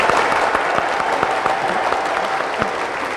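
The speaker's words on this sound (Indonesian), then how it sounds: "Boleh sekali lagi minta tepuk tangan untuk Kang Diki." An audience claps for a guest at a gathering, steady dense applause sustained from start to finish with scattered sharper claps standing out.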